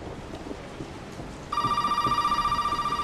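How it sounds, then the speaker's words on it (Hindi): A phone in Resident Evil 7 starts ringing midway with a sustained electronic trill that pulses rhythmically over a dark, rumbling ambience. It is loud and close, with no speech. "ओह रियली, अभी फोन आना है।"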